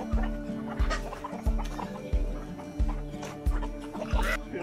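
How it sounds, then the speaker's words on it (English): Chickens cluck inside a coop on a farm in Botswana, close and layered over a steady low thumping rhythm and other farmyard sounds. "that's a big old chicken."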